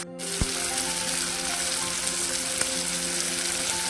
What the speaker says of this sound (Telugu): ఇప్పుడు టమాటా యాడ్ చేసుకున్నాం.